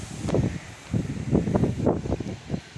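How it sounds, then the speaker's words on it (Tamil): Strong cyclone wind in Chennai buffeting the microphone in repeated low rumbling gusts, with rustling leaves close by. "காற்று எப்படி அடிக்க பாருங்கள்"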